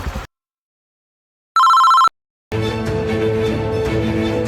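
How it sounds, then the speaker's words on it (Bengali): A telephone rings once in a short electronic burst after a silent gap, followed by a dense, loud stretch of mixed background sound. "বাপ ফোন দিছে"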